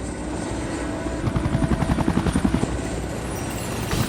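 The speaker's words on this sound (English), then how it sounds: "The chopper turns for home." A rescue helicopter flies low over a rough, grey sea, its rotor thudding in a steady rapid rhythm that swells louder midway, with engine whine beneath and no voices.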